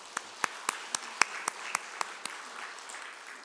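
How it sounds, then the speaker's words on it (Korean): A church congregation at a Sunday service claps in a sparse, slow rhythm, about ten distinct sharp claps spaced evenly against a quiet room, fading out toward the end. "박수 한번 하실래요?"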